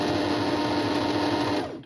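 A sewing machine stitches caravan cushion fabric in a close, continuous whirring run that lasts nearly two seconds before it stops, with no talking.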